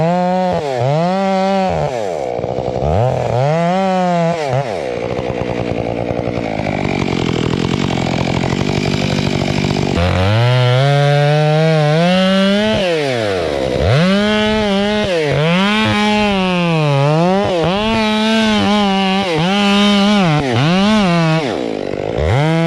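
A chainsaw bites into a large tree trunk during a double-cut felling, its engine loud and close, revving up and bogging down in repeated surges through long cuts with a brief lull midway.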